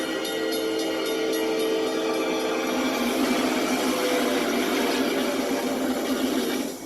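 A fast train roars past at about 70 miles per hour at a railroad crossing, where it strikes a minivan. The rumble and screech are loud and steady throughout and swell slightly toward the end, with no talk.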